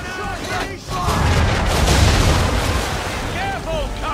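Ship cannons firing aboard a sailing vessel in Assassin's Creed III, a loud rolling boom swelling into a dense, rumbling wash of blasts over a couple of seconds, with shouted voices and creaking rigging around it.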